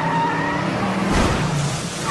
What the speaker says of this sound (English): I'm gonna press the gas pedal and I'm gonna go forward